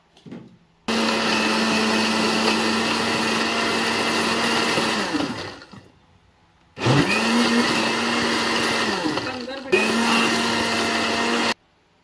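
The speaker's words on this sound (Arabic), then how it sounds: "نضرب مع بعض." Electric blender whirring as it blends mango juice with milk and honey, two long loud steady runs separated by a short pause, with a brief third burst near the end.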